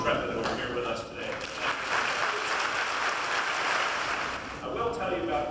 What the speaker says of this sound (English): I want to hear a rousing applause for all the men who have served on the Intrepid who are here with us today